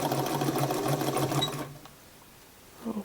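A sewing machine stitches a vintage style dress with a side zipper, humming in a fast steady whir for about a second and a half, then stopping, with faint handling after.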